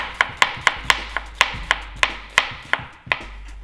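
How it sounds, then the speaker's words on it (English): A knife slicing onions thinly on a board, with about a dozen crisp, evenly paced chops up close and no talk. "now we're gonna cut up some onions. I'm just gonna get a nice thin slice."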